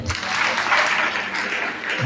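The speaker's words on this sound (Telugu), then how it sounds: "చప్పట్లు కొట్టి" A church congregation breaks into dense, steady clapping, a fairly loud wash of applause with faint voices underneath.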